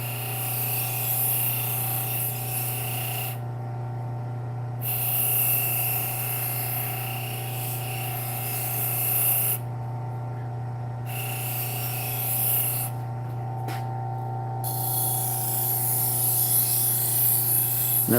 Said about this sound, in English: So I just run them across the Scotch-Brite.